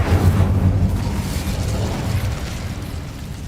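An Incendio fire spell blasts in Hogwarts Legacy as a loud fiery burst that booms at once and then trails off into a long crackling, rumbling decay.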